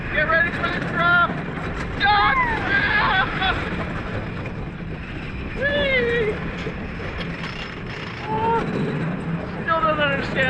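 A ride on Twister, the wooden roller coaster at Gröna Lund, with steady rushing wind and track rumble throughout, punctuated by high squeals and screams from riders.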